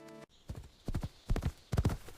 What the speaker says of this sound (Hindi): अकेला घोड़े पर सवार होकर अंधेरे जंगल की ओर बढ़ रहा था